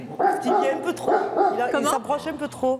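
A guard dog barks repeatedly at a camera crew, sharp close barks mixed with whimpering yips, while people talk over and between them in French.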